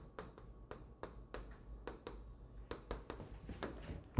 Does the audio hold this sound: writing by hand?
yes